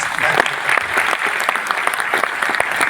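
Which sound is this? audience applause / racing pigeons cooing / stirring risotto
audience applause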